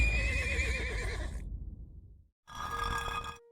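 A horse in a food-themed video game gives a loud, close, wavering whinny that fades out. After a short silence comes a shorter synthetic tone burst.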